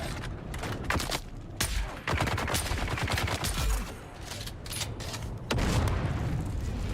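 Video game gunfire from a shooter, loud continuous bursts and heavy booming shots layered densely throughout, close and intense.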